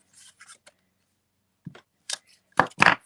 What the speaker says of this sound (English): there's my scissors. I'm going to cut this